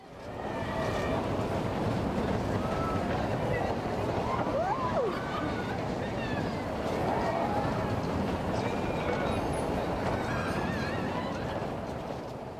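Continuous loud rumble of a spinning fairground ride at the Oide Wiesen section of Munich's Oktoberfest, with rushing wind and clatter, plus faint shouts and crowd noise throughout.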